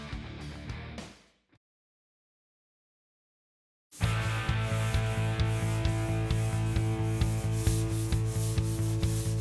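Sandpaper rubbing on the body of a '56 Tri-5 Chevy during paint prep, a steady rhythmic back-and-forth scraping that resumes after a silent gap, loud and close with no talk.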